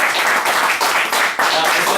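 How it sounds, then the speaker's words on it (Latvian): Applause from a crowd at a LAN party awards ceremony, with dense, steady clapping that fills the whole moment at close range and swells slightly in waves. "paldies un aplausi"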